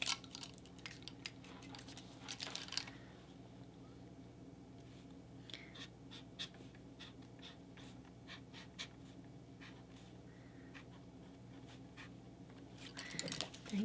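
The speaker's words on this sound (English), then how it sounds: "So I'll take my little heart, and I'm just gonna write her name on this." Pen scratching out a name on a small paper heart for a Valentine's craft: close, soft, continuous writing strokes with light taps and rustles, with a brief paper shuffle at the start and end.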